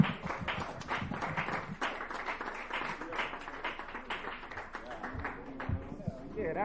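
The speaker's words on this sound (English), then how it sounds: "Another round of applause for Ryan Kelly" Audience applause at a dive bar comedy show for stand-up comedian Ryan Kelly: steady, crowded clapping that runs throughout under a talking voice.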